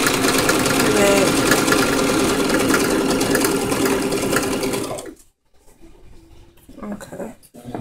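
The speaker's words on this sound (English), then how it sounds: "now I'm going to press the back stitch button and I'm going to stitch" A sewing machine back stitches fabric, a loud steady mechanical whirring hum that runs for about five seconds, then stops and leaves a quieter stretch with faint handling noises.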